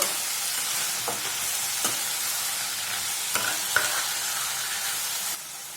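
Broad beans frying in a pan with salt and turmeric being stirred through, giving a steady close sizzle broken by a few soft scraping strokes of the spoon, with no talking.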